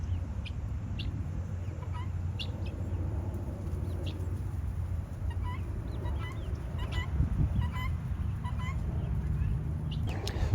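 A flock of guinea fowl calling out on a pasture among laying hens, repeated harsh chattering cries scattered over a steady outdoor background with some distant bird noise.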